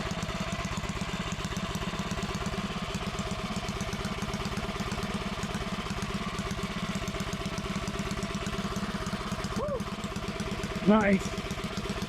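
A Predator 212 small engine on its first start-up, running on gravity-fed fuel without the fuel pump, holds a steady, loud idle throughout, with a couple of brief excited exclamations near the end.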